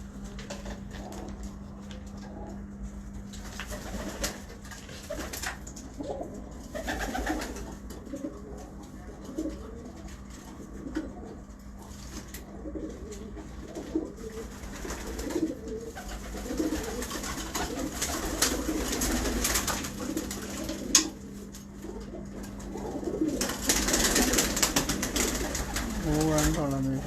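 Pigeons, kept by a pigeon fancier, coo repeatedly in soft rolling phrases nearby, with a steady hum and occasional rustles and knocks behind them, and someone talks intermittently.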